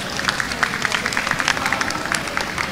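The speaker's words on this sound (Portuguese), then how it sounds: "uma salva de palmas, por favor." Audience applause after a talk on games journalism at a conference session, a short burst of scattered, moderately loud clapping from a modest crowd, with no talk over it.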